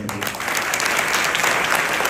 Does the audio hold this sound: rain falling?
no